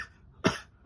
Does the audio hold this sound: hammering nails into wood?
no